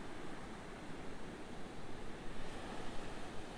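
Ocean surf breaks along the beach between Newport and Balboa, a soft continuous wash of rushing water with faint wind noise, distant and low in level with no voices.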